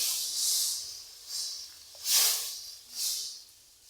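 Milk is poured into a heated wok-style pan for carrot malpua and hisses in four separate swelling bursts, each rising sharply then fading, close and fairly loud.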